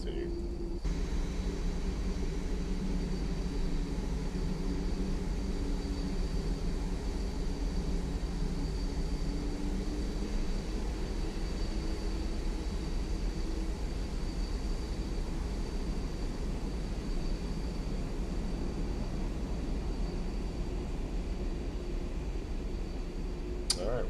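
A Boeing 787 taxiing in the X-Plane 11 flight simulator gives a steady, even engine drone with a low rumble and a faint high whine, unbroken and at a constant level throughout.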